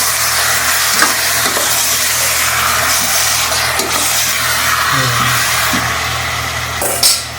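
Garlic and other ingredients being sautéed in a pan for Isabela-style Bicol Express, a continuous loud sizzle with repeated scraping stirs of a utensil against the pan throughout.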